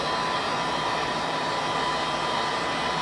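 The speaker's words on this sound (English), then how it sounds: "I'm going to use the heat gun to peel these stickers off to prep them for paint." Heat gun blowing hot air to loosen sticker adhesive on a PC case, a steady close broadband whoosh with a faint tonal whine, unbroken for the whole stretch.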